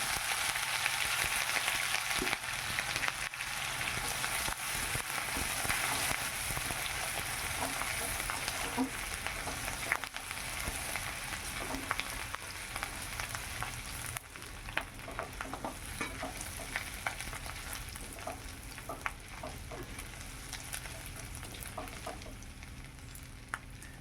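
Panch phoron spices and grated ginger fry in oil in a village kitchen, a steady bright sizzle with intermittent spoon stirring and scraping against the pan, no voices.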